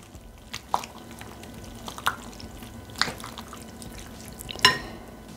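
Penne is tossed with shrimp and rocket in a bowl, giving sparse, soft wet clicks and taps of a utensil against the bowl, close and quiet, spaced about a second apart.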